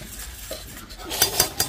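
Semolina being mixed with warm milk in a bowl, a few sharp utensil scrapes and clinks against the bowl rising near the end over soft handling noise, close and fairly quiet, no talking.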